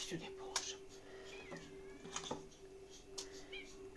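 A cat meows several times in short, fairly faint calls, with a steady hum and soft background noise around them.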